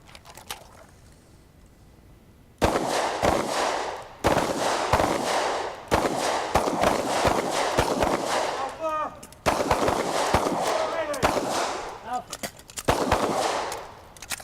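Three rounds fired at an outdoor firing line, after a quiet start a series of loud, sharp gunshot cracks ring out at irregular intervals, each trailing into echo, with some voices between shots.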